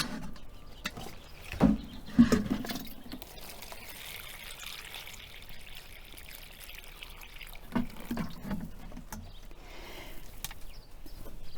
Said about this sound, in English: So let's get some water in here.